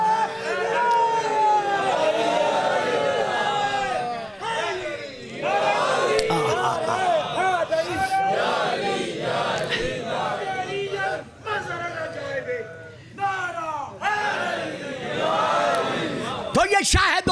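A large crowd at a Shia majlis gathering shouts religious slogans together, loud massed voices rising in repeated waves of call and response, with brief lulls between surges.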